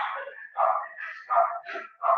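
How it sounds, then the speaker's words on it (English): Dogs barking repeatedly in short, loud bursts with a steady rhythm, close by and heard on their own with no talking over them. "Sorry about the dogs barking here."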